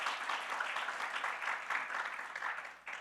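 An audience applauds at the Albertine Translation Prize 2025 ceremony: steady, dense clapping from many hands that holds evenly throughout, with no voices over it.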